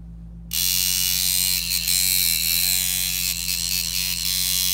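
A Mojobox stroke wheel tattoo machine switched on at 5 volts, starting abruptly into a loud, steady, close electric buzz that hums evenly with slight fluctuations, no voices.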